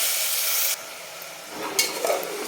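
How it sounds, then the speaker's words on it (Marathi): Washed rice is sautéed in a pan with a garlic and mustard-seed tempering: a loud, brief hiss cuts off abruptly, then a quieter sizzle follows with a few scraping stirs. "आणि छान परतून घ्यायचं आहे"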